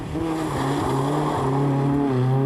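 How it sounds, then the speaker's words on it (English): A two-wheel drive rally car on a slippery stage at the 1997 ALMC Rally, its engine droning loud and close, the pitch rising and dipping as it revs through the low-grip section. "Charlie Donnelly finds it all a bit too slippery for his two-wheel drive mantle"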